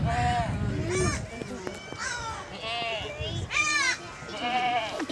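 Young goat kids and their mother bleat close by, their calls repeating and overlapping over a busy outdoor background.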